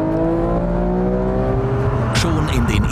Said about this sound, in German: Das Auto, im Auto selber ist ein Sound zu hören, der ist sensationell, Gänsehaut-Feeling.